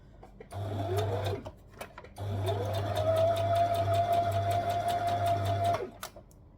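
A sewing machine stitching fabric for a tee shirt in two runs, a short burst then a longer steady whirring hum with rhythmic needle clatter, close and loud with a brief pause between.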